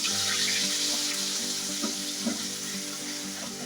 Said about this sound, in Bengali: পেঁয়াজকে বেটে নিয়েছি, সেটা দিয়ে দিচ্ছি